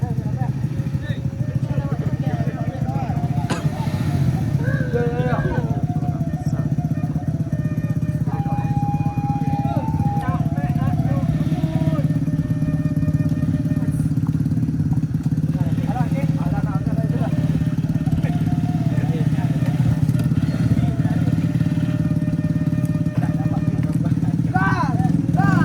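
A big motorcycle climbs a rough mountain road in Solok, its engine droning steadily and close the whole time while several people talk and call out over it.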